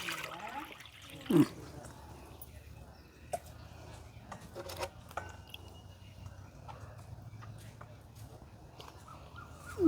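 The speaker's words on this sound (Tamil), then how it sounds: "நாங்கள் இப்போ தண்ணி விட்டு இப்போ காலையான கழுவ போகிறோம் கழுவி எடுக்க போகிறோம்" Water splashing and trickling while mushrooms are rinsed in water, with a few sharp clatters and soft handling noises, fairly quiet and close.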